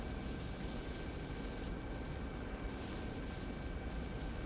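An aircraft makes its landing approach to an aircraft carrier in a military video game, a steady, fairly faint engine drone with broad rushing noise and no change throughout.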